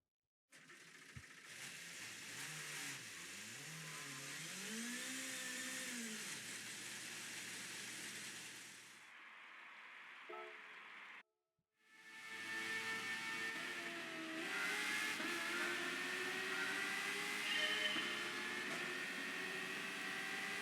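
Race car engine in Gran Turismo Sport, a steady loud whine rising and falling in pitch through shifts, cutting out briefly near the middle before revving back up and holding high.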